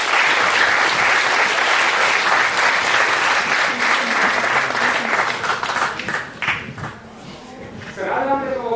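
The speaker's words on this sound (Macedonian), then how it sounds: "Еден аплауз за тоа." An audience applauds at a forum theatre performance on peer bullying. The clapping is dense, loud and sustained, with crowd noise mixed in, and it thins out near the end as voices begin to come through.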